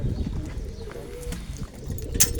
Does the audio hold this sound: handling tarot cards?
no